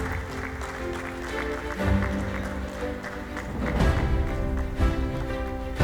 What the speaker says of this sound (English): I request everyone to keep clapping.